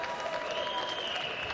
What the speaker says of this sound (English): Notable applause.